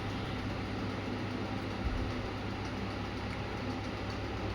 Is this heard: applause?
no